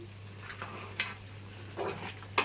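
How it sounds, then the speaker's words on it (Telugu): Chicken masala roast frying in a pan while being stirred, a low steady sizzle broken by a few scraping stirs and clinks of the spoon, fairly quiet and close, no talking. "ఇలా ఒక 10 నిమిషాలు వేయించుకోవాలి, సిమ్లో పెట్టే వేయించుకోవాలి."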